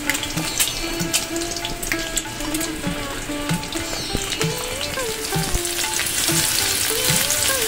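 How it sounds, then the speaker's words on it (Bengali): Shelled duck eggs fry in a pan, giving a steady close crackling sizzle with scattered pops and occasional scrapes of stirring throughout. "হাঁসের ডিম ছাড়িয়ে দেখো ভাজা করতে দিয়ে দিয়েছি আমি।"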